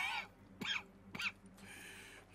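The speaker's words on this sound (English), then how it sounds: "That's quite a cough." Several short, rough coughs and throat noises in quick succession, fairly close, over a low background hum, from a person with tuberculosis.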